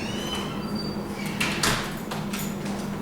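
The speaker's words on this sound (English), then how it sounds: "But then when I go to open the door," A door is opened at home, a brief sliding scrape and clatter of the latch and hinge in the middle, over a steady low room hum with faint background sounds.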